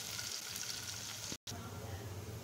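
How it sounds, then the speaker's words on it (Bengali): Onion and garlic frying lightly in a pan, a steady close sizzle running throughout with a brief cutout midway, then the hiss continuing unchanged. "রসুনটা ভেজে নিচ্ছি।"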